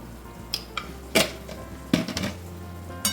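Pumpkin curry is stirred in a pan on low heat, a few close, sharp scrapes and clanks of a spoon against metal with a soft cooking hiss underneath, no talking.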